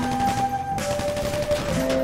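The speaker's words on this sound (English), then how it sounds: "I'm hearing gunfire." Gunfire in GTA Online's Doomsday Heist on PC, a sustained burst of rapid automatic fire with a steady in-game tone running underneath, fairly loud for about two seconds with no speech.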